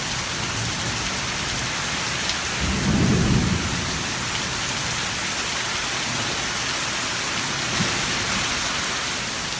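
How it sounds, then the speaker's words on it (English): Heavy rain pouring steadily in a New Orleans thunderstorm, with a deep rumble of thunder swelling briefly partway through, a dense constant hiss with no voices. "The rain started."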